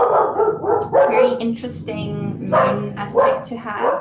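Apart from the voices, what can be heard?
dogs barking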